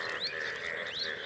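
A frog croaks twice in quick succession while being caught by hand, close and fairly clear, with no talking.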